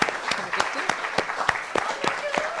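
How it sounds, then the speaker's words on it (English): A round of applause from the audience at a literary weekend event, steady moderate clapping over the whole stretch with a faint voice underneath. "we could also give Stella a round of applause"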